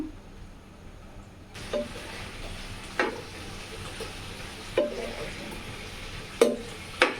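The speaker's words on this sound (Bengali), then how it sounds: "আমি শুকরের মাংস একটু ভাজা করবো" Pork fries in a pan with a soft continuous sizzle, punctuated every second or so by sharper scrapes and knocks as the meat is stirred.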